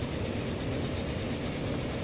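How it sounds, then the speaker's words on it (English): A train rolls through in the railway simulation game Transport Fever, a steady, dense rumble with rail noise filling the whole stretch at constant loudness, no talk over it. "there's another train coming through"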